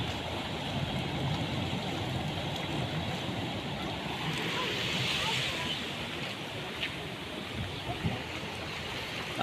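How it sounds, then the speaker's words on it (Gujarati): Water released from Shetrunji dam gushes through the open left-bank irrigation canal, a steady, dense roar of rushing flow with wind buffeting the microphone outdoors. "પાણી તો ઉફાડા મારે છે"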